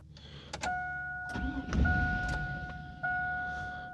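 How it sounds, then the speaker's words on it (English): A Chevy truck engine cranks over after PCM replacement, with a whirring starter and a steady chime tone running over it; the cranking is close and brief, and no one talks. "Crank it 3 times."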